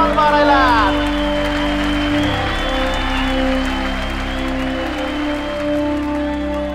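Audience applause rings out for the White Panther player at a tennis-ball cricket match, a loud steady clapping with a crowd murmur beneath and a voice talking throughout.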